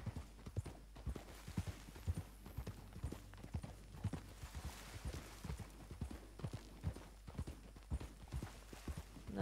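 Horse hooves clip-clop steadily in Red Dead Redemption 2, a brisk, even rhythm of many close, distinct hoofbeats running throughout with no talking.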